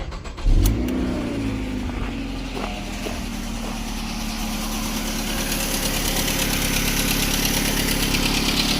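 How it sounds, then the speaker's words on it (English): A 2007 Ford Fusion engine cranks and catches with a brief loud burst, then settles into a steady idle hum that grows slightly stronger as it keeps running, close and alone. "Now let's start this car back up."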